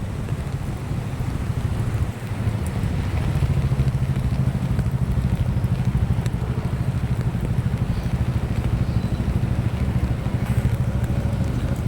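Heavy rain pours steadily with gusting wind buffeting the microphone, a dense continuous roar with a low rumble underneath.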